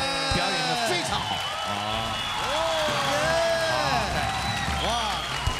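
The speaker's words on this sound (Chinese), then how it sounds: "我们掌声给蔡小虎" A studio audience on a variety show gives continuous applause and cheering for Cai Xiaohu, with a host talking excitedly over the crowd noise.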